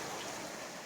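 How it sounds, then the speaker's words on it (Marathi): Heavy monsoon rain pours down in a dense, even hiss, steady and close for under a second, with no voices. "आता जोरात सहज पाऊस आलेला आहे"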